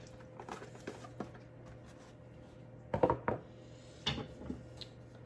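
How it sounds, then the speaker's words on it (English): A spoon stirs a vegetable curry with chicken stock in a pot, giving quiet, close scraping and a few sharper knocks against the pot over a low, steady background hum. "I give it a stir."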